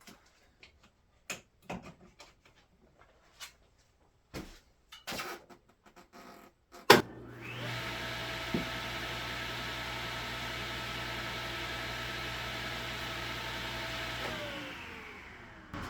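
A DeWalt saw, freshly plugged in, starts with a sharp click and then runs as a steady, loud motor whine for several seconds before spinning down, preceded by quiet handling knocks.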